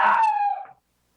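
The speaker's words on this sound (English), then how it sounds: "that's my dog barking." A dog lets out one short, drawn-out wail that slides downward in pitch and then cuts off, close by and alone.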